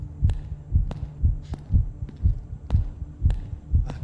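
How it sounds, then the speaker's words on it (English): Heartbeat effect in the horror video game Night People: a steady, close, low thumping pulse repeating about every half second, alone without speech. "Hear your heartbeat."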